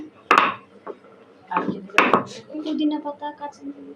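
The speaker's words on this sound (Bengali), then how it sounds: "এখন কাঁঠালের বিচিগুলো বেটে নেওয়া হচ্ছে" Jackfruit seeds being ground into a paste for a bharta, heard as a few sharp knocks followed by a softer, rhythmic rubbing and crushing, close up, with faint tonal sounds in the background.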